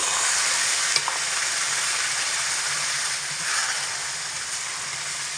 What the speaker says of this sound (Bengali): এক বাটি দিয়ে হালকা একটু নাড়াচাড়া করে নেব যাতে করে তলার দিক থেকে লেগে না যায়